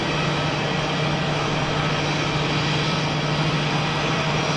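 An Airbus A220 jet climbs away after takeoff at Geneva Airport with its gear retracting, giving a steady, loud, broadband engine roar that holds evenly throughout with no voices.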